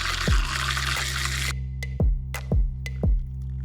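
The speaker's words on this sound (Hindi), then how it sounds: "अगर आप अंदर पानी डालते हैं और डिवाइस को चालू करते हैं तो ये एक पावरफुल भंवर बनाता है" A self-stirring mug spins water into a vortex, giving a steady motor whir that stops abruptly, followed by several close, hollow drips and plops into the liquid, with no voices.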